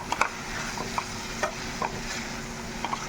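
Amaranth leaves fry in a pan without salt or turmeric yet, a low continuous sizzle broken by light scraping clicks of a spatula stirring at an uneven pace.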